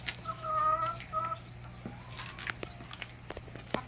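Chickens in a garden coop clucking near and clearly, with a short run of warbling clucks at the start, then scattered pecks and soft taps over a steady low hum.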